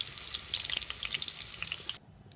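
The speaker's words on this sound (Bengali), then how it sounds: "আলুটা ততক্ষণ একটু ভাজা হোক" Steady crackling sizzle of potatoes frying in hot oil over a traditional clay stove, close and continuous, then cutting off abruptly near the end.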